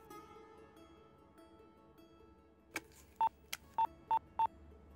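Telephone keypad dialing: a short series of clear, evenly spaced tone beeps, loud against a faint background of music.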